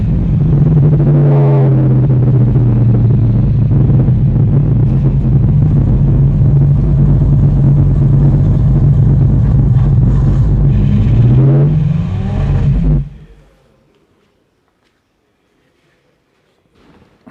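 A vintage Auto Union car engine roars loud and close inside a motor museum, a sustained deep rumble with rising rev swells near the start and end before cutting off abruptly into near silence.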